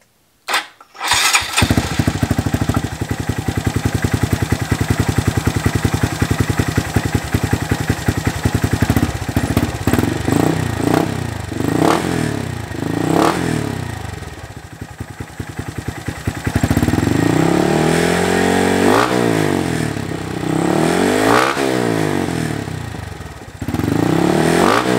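A 2019-or-later Honda Monkey motorcycle with a Termignoni exhaust fires up and idles with a loud, close-up rasp, then blips through several sharp revs that rise and fall.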